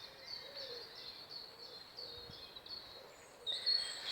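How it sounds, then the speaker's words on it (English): Small birds call and sing on a quiet walk outdoors, soft and somewhat distant, with repeated high chirps over low ambient hiss and a slightly louder burst near the end. "if we listen, we can hear the birds"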